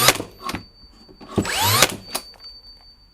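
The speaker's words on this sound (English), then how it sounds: "we're going to see if I can drive nails into this through a piece of pine" Bosch 16ga cordless brad nailer driving 64mm nails through pine flooring, close sharp mechanical bursts with a whirring motor sweep in the middle, set among quieter knocks and handling noise.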